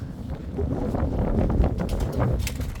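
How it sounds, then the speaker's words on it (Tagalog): Strong wind buffets the microphone with a constant low rumble and gusty rustling, loud and unbroken throughout. "Lakas na hangin"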